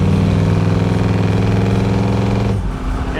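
A 1967 Chevrolet Impala with a 396 big block V8, long tube headers and dual exhaust, idling loud and close with a deep, steady, rumbling burble that drops off sharply near the end, with no talking.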